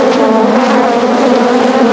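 A swarm of honey bees being moved into an Apimaye hive box makes a loud, steady, close buzzing drone with no pauses and no voices.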